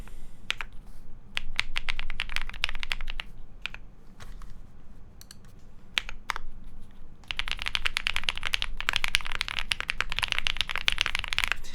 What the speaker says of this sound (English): I do like hearing the sound of these like foam filled keyboards like when you're typing fast because it sounds really nice.